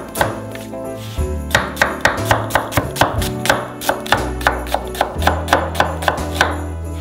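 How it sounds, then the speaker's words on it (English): A knife briskly chops fresh onions into half rings on a cutting board, sharp regular knocks in a steady rhythm, close and clear over faint background music. "we're gonna cut up some fresh onions into half rings"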